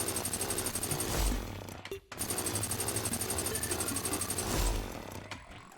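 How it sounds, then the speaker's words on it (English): The Photon Ripper, a massive chainsaw weapon from the Calamity mod for Terraria, gives a loud, continuous buzzing, rattling whir that dips briefly and cuts out before starting up again at full intensity. "this is the Photon Ripper, a massive chainsaw, and it sounds just like the normal chainsaw in Terraria"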